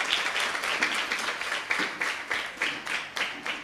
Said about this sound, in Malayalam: എന്നൊന്ന് കൈയടിച്ചേ